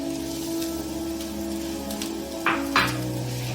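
Cumin seeds, oregano and garlic powder sizzle in hot oil with a steady crackle beneath background music, and two louder bursts of spatter come near the end.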